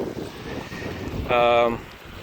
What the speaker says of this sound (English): And it's freaking windy out here again, too.